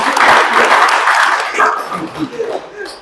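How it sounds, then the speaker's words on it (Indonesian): Audience applause for Pak Ansori at a teachers' gathering in the plantation education world, a dense wash of clapping that fades after the first second and a half as a voice begins talking over it. "Tepuk tangan dong untuk Pak Ansori"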